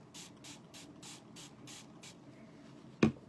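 Seven quick, evenly spaced spritzes from a spray bottle onto a chalk craft stencil, close by, followed by a single louder knock.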